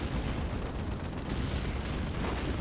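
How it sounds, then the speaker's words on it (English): A Mortis Dreadnought's long twin autocannons fire nonstop in Dawn of War, a dense, loud roar of rapid shots blending into one sustained battlefield barrage with no pauses. "Guns akimbo, looking for those autocannons."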